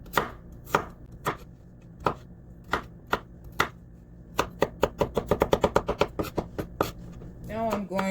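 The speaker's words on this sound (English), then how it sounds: "I'm simply going to mince them by hand" Garlic minced by hand with a knife on a cutting board, sharp close knocks starting slow and spaced, then speeding into a quick run of rapid chops, ending in a short stretch of talk.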